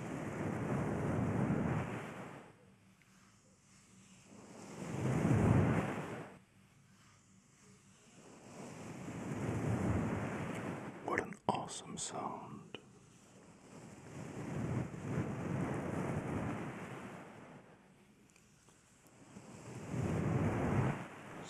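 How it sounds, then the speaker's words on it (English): Soft brushing on an ASMR binaural microphone swells and fades in slow, wave-like surges about every five seconds, resembling ocean surf rolling in and out, with a brief crackle of handling midway and a short spoken remark. "ocean waves."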